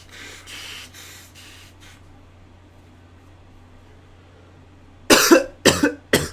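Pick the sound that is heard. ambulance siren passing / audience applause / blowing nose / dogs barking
blowing nose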